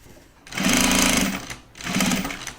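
Sewing machine stitching a project bag, two loud bursts of rapid mechanical whirring separated by a brief pause, close up with no talk.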